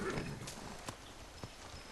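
Horse hooves in the video game Far Cry 6, heard as a few soft, distant clip-clops spaced apart over a quiet background hiss.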